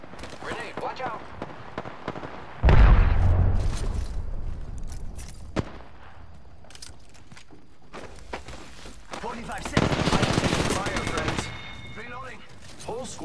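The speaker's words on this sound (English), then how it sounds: "Grenade, watch out." A grenade explosion in Apex Legends, landing as a sudden heavy boom with a rumbling tail, then bursts of gunfire and footsteps, heard close under a player's talk and a later loud burst.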